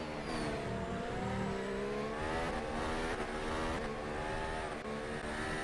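Formula-style race cars in a mobile racing game, one in a Ferrari, screaming at high revs while chasing and overtaking in a slipstream, a loud continuous engine whine with shifting pitch and no voices.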